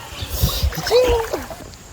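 Water splashes and sloshes as someone bathes in a hot spring under a bridge, with irregular close splashes and short vocal sounds over them.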